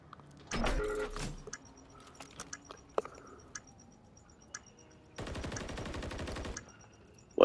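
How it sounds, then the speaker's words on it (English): Teammate gunfire in Call of Duty MW3, two bursts of rapid automatic fire separated by scattered single clicks and shots, the second burst longer and steadier. "One teammate is shooting."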